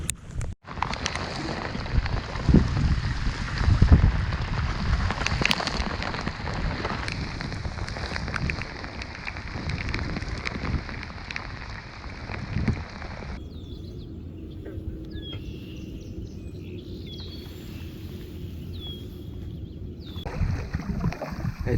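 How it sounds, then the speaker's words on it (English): Rain shower falling on a canoe out on the Mississippi River, a dense patter mixed with wind buffeting the microphone, strongest early on and thinning to lighter drips and soft washing later. "Just a passing shower."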